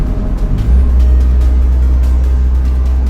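A 1989 Toyota Starlet Kotak GT cruising in fifth gear, its engine holding a loud, steady low drone with road rumble and a slight rise in pitch early on.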